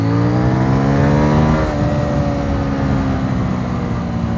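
A 2023 CFMoto 800NK motorcycle engine revs hard with a rising whine before dropping back to a loud, rough idle-like roar, recorded up close and sustained throughout with no talking.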